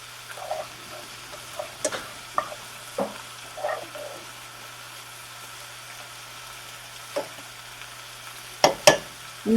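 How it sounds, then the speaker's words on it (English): Food simmers quietly in a pan at breakfast, a soft low bubbling background broken by a few scattered clicks and clatters and a couple of louder knocks near the end, no talking. "I'm just gonna let those simmer."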